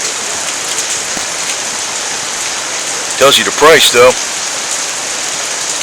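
Heavy rain falls steadily as a dense, even hiss beside a parked 1969 Pontiac Grand Prix, continuous throughout, with someone briefly talking near the end.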